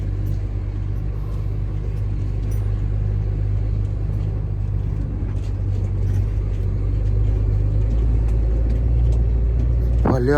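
A car rolls along a rural road toward a river ferry crossing with a steady, loud engine rumble and road noise throughout, rising slightly near the end.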